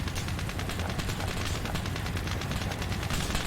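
Incoming gunfire rattles against a tank in the Steel Beasts Pro PE tank simulator, a dense, continuous run of rapid impacts and shots that stays loud and steady throughout, with no talking.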